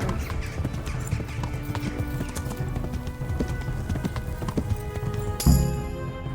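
Horse galloping in the video game Kingdom Come Deliverance, rapid clip-clopping hooves at a steady gallop, close and loud, ending with a sharp burst near the end.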